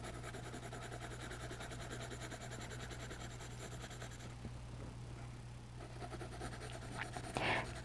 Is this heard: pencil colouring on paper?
yes